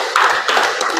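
A group of students clapping a rhythmic patterned clap in a school guidance counselling session, a few loud sharp bursts of sync clapping in quick succession.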